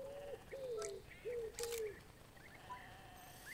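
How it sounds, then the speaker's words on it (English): European bee-eater calling in the wildlife game Alba, a few short, rolling mid-pitched trills in quick succession, fairly clear against a soft ambient background with no talking. "A European bee eater."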